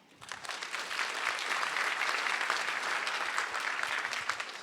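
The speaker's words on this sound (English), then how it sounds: "One more round of applause, please, everybody." Sustained applause from an audience at a community event honoring people over eighty, a dense steady clatter of many hands that swells in and holds.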